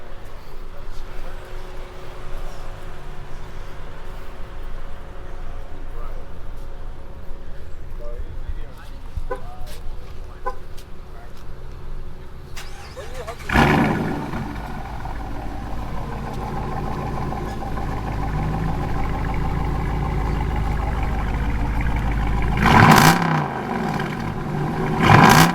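A car engine cold-starts outdoors at a rainy Oklahoma City cars-and-coffee meet, cranking and catching into a loud rev, then settling to a rumbling idle before blipping again; people chat nearby.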